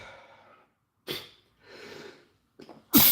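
A single person sneezes, preceded by a sharp intake and a breathy exhale, ending in a loud, abrupt burst close to the microphone amid short silent gaps.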